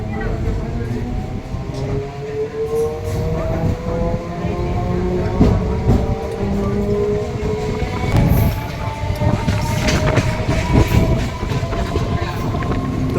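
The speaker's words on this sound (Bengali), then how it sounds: "এখানে তো কাকদ্বীপ স্টেশন থেকে অলরেডি ছেড়ে দিয়েছে ট্রেনটা" Inside the carriage of a moving passenger train that has left Kakdwip station, a steady loud rumble and rattle of the wheels and car fill the space, with people talking over the din throughout.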